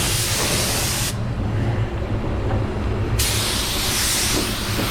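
A 3M Performance spray gun sprays with a loud, continuous hiss, briefly dropping to a duller rush in the middle before the full bright spray returns, alone without talk.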